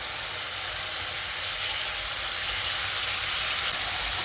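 Soaked, drained moong dal goes into a sizzling tomato masala in a pan, giving a continuous hissing sizzle with a faint low rumble beneath it, steady throughout and with no talking.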